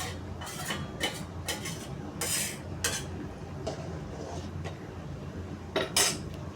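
A utensil stirs fried paneer through masala gravy in a pan, giving scattered metallic clinks and scrapes against the pan over a low background hum, with no talking.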